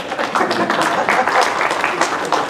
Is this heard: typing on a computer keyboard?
no